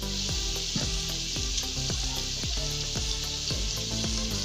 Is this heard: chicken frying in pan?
yes